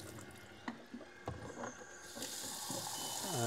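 Water running into an AGO film processor while developing C41 colour film, a steady close trickle and flow that builds louder toward the end, with a few small knocks early on.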